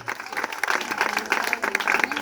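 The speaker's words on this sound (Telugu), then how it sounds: "సంతోషంగా ఒకసారి చప్పట్లు కొడదాం వీళ్ళని బట్టి" A crowd at a children's church stage performance applauds steadily, a dense patter of clapping hands that keeps going at an even level from start to finish.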